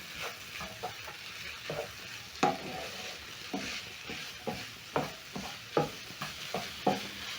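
Tomatoes and tomato paste stirred in a pan for a minced meat stew: a soft bed of sizzling with repeated spoon scrapes and light knocks against the pan, fairly quiet and close.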